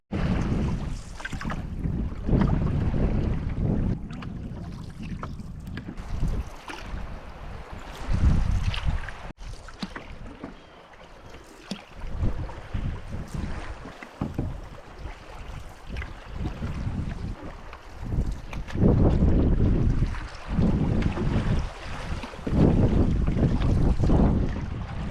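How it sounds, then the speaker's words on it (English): Strong wind and big waves on a lake during a spring canoe trip in Quetico, with gusty wind buffeting the microphone and water sloshing and slapping in uneven surges, loud and continuous. "get out of those huge waves and wind for 5 minutes"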